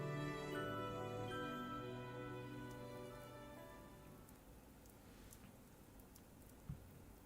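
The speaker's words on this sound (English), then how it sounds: "I wake to the sound of rain." Steady rain falls on a surface as a soft continuous patter, rising out of a fading musical tone and continuing alone, with one brief thump near the end.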